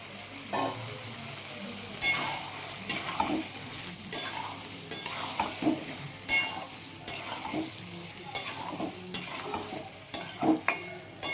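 Potatoes and green peas fry in a pan, a low sizzle running beneath irregular scraping and clattering strokes of a spoon stirring them, close and fairly loud.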